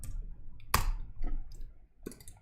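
Three sharp, isolated computer mouse clicks against a quiet room background, spaced unevenly over a couple of seconds, the first the loudest.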